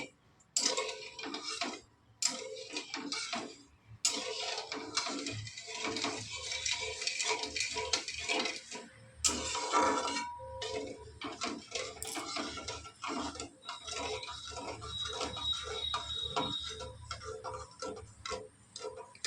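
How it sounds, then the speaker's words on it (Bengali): Sugar being stirred in a pan until it melts into syrup for a papaya chutney, with quick, repeated clicking and scraping of a spoon against the pan, close up and fairly steady, with no voices. "চিনিটাকে আমি এইভাবে নেড়ে রস করে নেব।"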